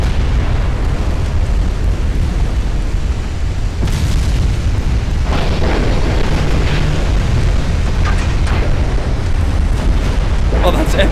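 Artillery guns in a Battle of Port Arthur video game fire and explode over a dense, constant low rumble, with sharper bursts near four and five seconds and again late on, while excited voices react.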